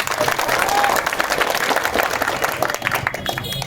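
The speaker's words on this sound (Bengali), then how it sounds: "বীরগঞ্জবাসীর জন্য আমার পক্ষ থেকে একটা করতালি হয়ে যাবে।" A crowd claps steadily at an election campaign rally in a market, with dense, continuous applause throughout the short stretch and a few voices mixed in.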